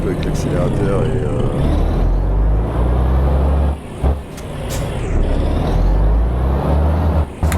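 A Volvo F10 truck engine in a driving video game, a loud continuous low drone as the throttle is played, with brief dips and an air-brake hiss, under a voice talking.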